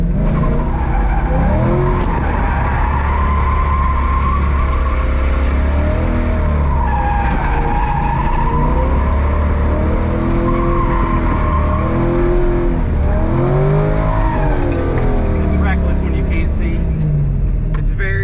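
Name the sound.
C5/C6 Corvette drift car skidding, tires squealing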